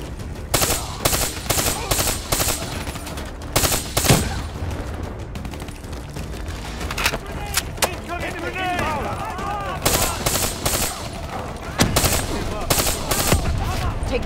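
Rapid, loud gunfire in Call of Duty: Black Ops III, repeated bursts of automatic weapon shots with short pauses, close and punchy, mixed with game effects and talking voices.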